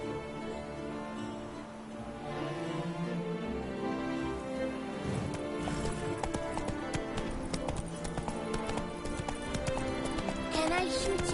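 Roach, a horse in The Witcher 3, gallops with rapid, rhythmic hoofbeats under game music, growing louder and busier as the run continues, with talk mixed in.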